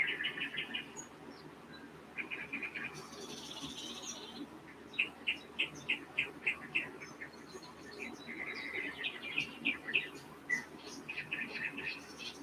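Birds chirp in short repeated bursts, some notes clear and rhythmic, over a soft outdoor background hiss.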